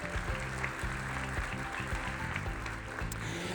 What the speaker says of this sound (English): so that we can give you a round of applause